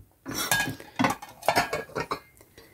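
Porcelain plates from different makers clink and knock together as they are handled and set down, a series of bright, close ceramic contacts in an irregular rhythm with no talk.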